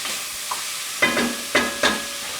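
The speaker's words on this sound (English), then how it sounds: "add them before and stir. So the onion is caramelized." Caramelizing onions and mixed vegetables hiss steadily in a pan, broken by three or four distinct scraping strokes of a stirring utensil, close and fairly loud, with no speech.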